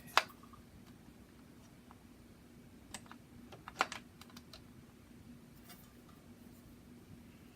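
A rebuilt vintage Gateway 2000 keyboard giving a few scattered, sharp keystrokes with pauses between them, over a faint steady background hum.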